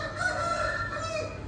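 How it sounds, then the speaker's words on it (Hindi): Roosters crow in a residential colony in the early morning, one drawn-out cock-a-doodle-doo carrying clearly from a short distance with no talk over it. "और ये जो हमारी कॉलोनी में मुर्गे बोलते हैं वो।"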